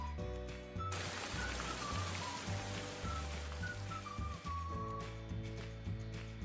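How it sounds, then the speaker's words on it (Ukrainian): Autumn rain pattering steadily on a surface, a dense hiss of drops with a soft tonal background hum underneath. "Звісно, це шум осіннього дощику."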